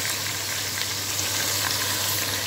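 Onions frying in hot oil until brown for biryani, a steady, dense sizzle close up that holds at an even level throughout.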